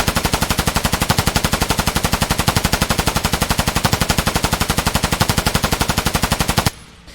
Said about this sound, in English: So what I'm going to do is I'm just going to shoot at this dude's head here.